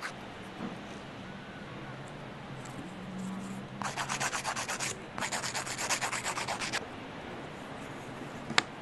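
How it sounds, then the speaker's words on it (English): A soft grit file rasps across shell-decorated fingernails in close, steady back-and-forth strokes, quiet at first and then running as two longer bursts of rhythmic rubbing with no talking. "I'm using a fairly soft grit file because I'm afraid they're going to chip up as I file"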